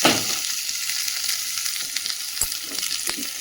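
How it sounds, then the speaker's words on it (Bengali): Chopped fish fat frying in hot oil with garlic and onion, a steady close hiss and crackle with a few sharp pops, no voices. "এদিকেও তাও বসিয়ে দিলাম, দিয়ে মাছের তেলটা ভাজবো।"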